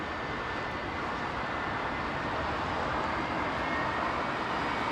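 Qatar Airways flight QR69 passing overhead near London Heathrow Airport on a Sunday morning, a steady, fairly faint rushing jet rumble that swells slightly as it continues, heard alone without voices.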